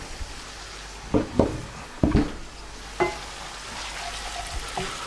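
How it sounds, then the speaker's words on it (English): Half an onion and chili hitting hot oil for a Dansak curry: a steady frying sizzle with several sharp spattering pops and stirring knocks spread through, no talk. "we can now add our 1/2 onion and our chili"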